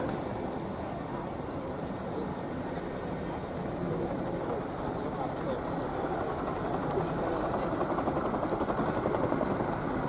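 An RAF Boeing Chinook HC.6 twin-rotor helicopter performs a tactical display at RAF Fairford, its loud, steady rotor thrum and turbine roar filling the air continuously with a faint rhythmic beat, while a commentator's voice runs underneath.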